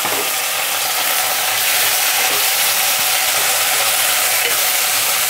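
Potatoes and onions fry in a pan while tomato pieces are added for a ridge gourd and chickpea curry, producing a loud, continuous sizzle with faint stirring scrapes throughout and no talking.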